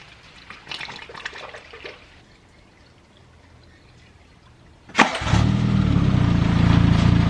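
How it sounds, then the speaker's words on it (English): After some quiet shuffling, tap water suddenly gushes in a strong, steady pour into a 4WD vehicle's cooling system, continuing loud and close until the end. "So I put 2 litres of this and fill the rest up with just plain tap water."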